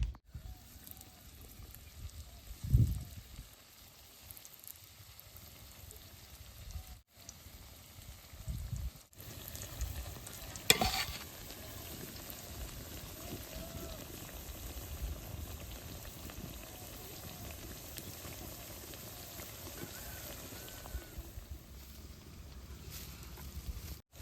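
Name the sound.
frying chili pitha in hot oil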